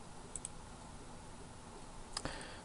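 Computer mouse clicking an on-screen button in an electronic health record program, a couple of faint, sharp clicks near the start and another pair near the end over quiet room hiss.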